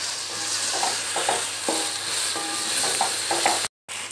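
Crushed green chillies frying in a pan, an even close sizzle with intermittent spatula scrapes and taps as they are stirred, briefly cutting out near the end, with no talking.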